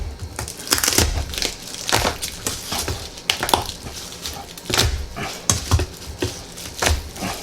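Repeated crunching of an ingredient being crushed while cooking Filipino chicken adobo, sharp close-up crackles in an uneven rhythm with no talking.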